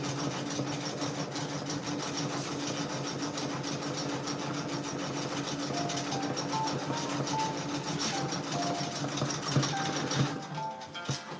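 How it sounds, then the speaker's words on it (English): A Brother Persona embroidery machine stitches patches in a continuous, fast, rattling hum, steady and fairly loud, running alone until it winds down near the end. "We just gonna keep on stitching, guys. We're gonna keep on stitching."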